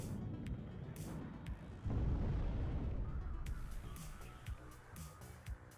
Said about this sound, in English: watch the infantry getting minced by all those autocannons